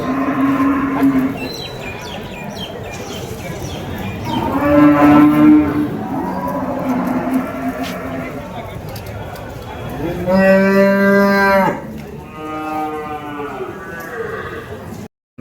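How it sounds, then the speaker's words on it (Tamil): Native cows and calves low repeatedly at a busy outdoor cattle market in Vaniyambadi, with several long, loud, drawn-out moos over constant crowd chatter and nearby talking. "நாட்டு பசு மாடுங்க, கண்ணு மாடு எடுத்துகிட்டு வந்திருக்காங்க."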